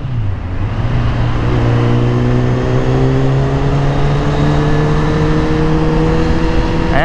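A Kawasaki Z1000 motorcycle engine on a dyno howls loud and close, climbing steadily through the revs with smooth rising pitch, a quickshifter clicking through gears with barely a break in the scream.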